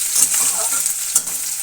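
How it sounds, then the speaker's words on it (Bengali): Chopped onion frying in oil sizzles loudly and continuously while being stirred in the pan, with a few soft scraping knocks. "পেঁয়াজটা ভাজা হতে হতে দিয়ে দেবো আমি"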